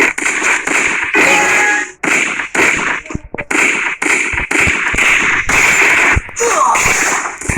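Gunfire from the Free Fire mobile battle royale game, a run of sharp cracking shots in irregular bursts across the clip, loud and close, with speech-like sounds mixed in.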